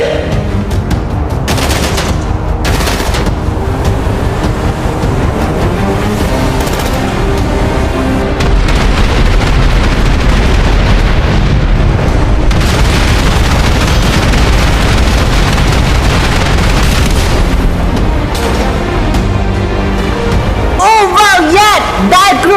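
Video game explosions and heavy gunfire as two enemies are blown into the air: a loud, dense barrage of booms and rapid shots that runs nearly the whole time, ending with electronic game sounds.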